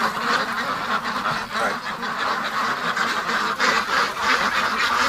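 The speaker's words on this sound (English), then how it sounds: "Look at them panic. Oh, they're ducks." Winter ducks quack in a dense, agitated chorus that runs nonstop, close and loud, with no voices over it.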